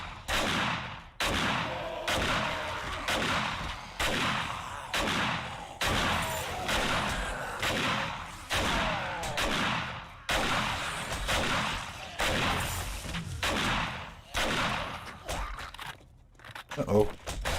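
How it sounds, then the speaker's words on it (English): A gunfight with shotgun blasts against biker enemies in the zombie survival video game 7 Days to Die, made up of repeated loud booming shots every second or so, heavy and close, mixed with someone talking over the action. "this is a pretty intense little gunfight here. Oh, bikers get a shotgun to the face."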